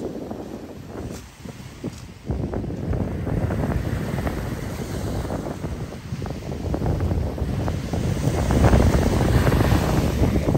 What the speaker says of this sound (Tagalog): Ayan, umaalon, napakalakas.